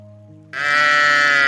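A single loud sheep bleat bursts in after a quiet start and holds strongly to the end, close to the listener.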